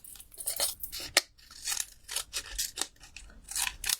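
Scissors cut through card or paper in a paper-crafting session, giving a run of close, crisp snips and crunchy shearing strokes, steady and unaccompanied by any voice.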